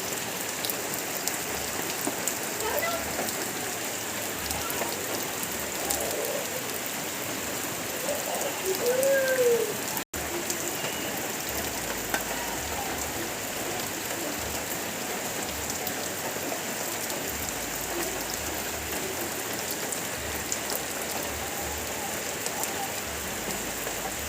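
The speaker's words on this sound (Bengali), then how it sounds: "তো বৃষ্টি হচ্ছে, বৃষ্টি মোটে কমছে না" Heavy rain falling without letup over a village, a thick continuous patter of drops on surfaces, loud and even throughout with a brief low pitched sound partway through.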